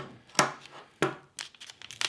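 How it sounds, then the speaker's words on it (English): Scissors snipping notches into tweed fabric for a winter jacket, a few sharp close cuts spaced apart, the last ones quicker and lighter. "I will just cut my notches first"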